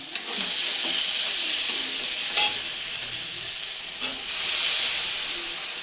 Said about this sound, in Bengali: হ্যাঁ, এখন জল দিয়ে দিব।